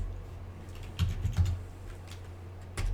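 Keys clack on a computer keyboard in short bursts while an operation is renamed in FreeCAD, close and fairly quiet with pauses between the clusters of strokes.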